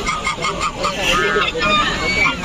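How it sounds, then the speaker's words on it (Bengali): Geese and swans honking repeatedly among other waterfowl in a public park in Malaysia, with steady crowd babble and people talking in the background. "অনেকগুলো হাঁস, রাজহাঁস আছে"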